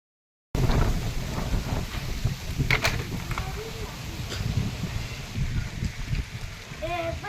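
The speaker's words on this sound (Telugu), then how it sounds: "వీణవంక మండల కేంద్రంలో ఎదురుగాలులతో కూడిన వర్షం పడుతోంది." Rain driven by strong headwinds falls over the Veenavanka mandal centre, a steady broadband roar and rush of wind-blown rain that runs unbroken from start to end with no break or quiet spell.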